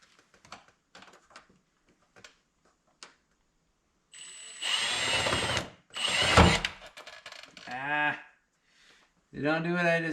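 Power drill driving screws into the body of a totaled Hemi Challenger, several loud whirring bursts of a few seconds each, broken by quiet handling clicks and separated by stretches of nearby talking.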